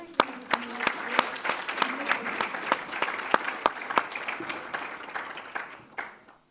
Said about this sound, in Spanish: Ahora también deseamos un aplauso a Andrés Contreras Herrera.